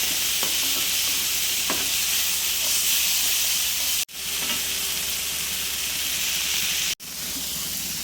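Tomato prawn masala sizzles steadily in a hot pan while a spoon stirs it with occasional scraping clinks, and the loud hiss is cut by two brief breaks.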